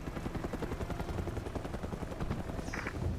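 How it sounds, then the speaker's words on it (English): A helicopter in the video game Mercenaries 2 approaching, its rotor chopping in a steady rapid pulse, faint and distant, with a brief whistling game effect near the end. "Chinese helicopter inbound"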